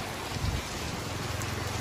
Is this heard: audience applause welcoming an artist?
no